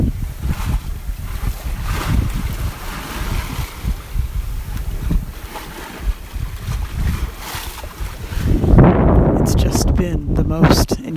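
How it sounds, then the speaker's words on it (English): Ocean waves wash and slosh around a sailboat rocking at sea at night, a steady broadband rush with wind noise on the microphone, building to a louder surge of splashing water near the end. "See if I can play some of the wave noise for you."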